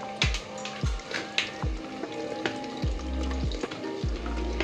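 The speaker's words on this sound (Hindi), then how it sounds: "आपण पियाज को टिके आपण गोल्डन ब्राउन हला पर्यंत ताकू भाजिबे" Onions fry in a clay pot, a steady crackling sizzle close by, broken by several rhythmic scraping knocks as a spoon stirs against the clay, with no talk.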